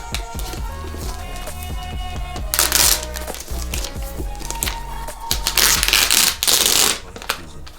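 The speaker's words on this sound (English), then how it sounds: "Let's unwrap it." Crinkling, rustling packaging as an Apple M1 Mac Mini is unwrapped, with steady crackles and louder tearing bursts near the end, heard close and alone over a musical background.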